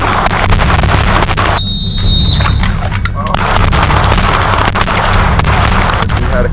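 Gunfire at a combat pistol shooting range: rapid sharp shots cracking over loud, constant background noise, with people talking throughout.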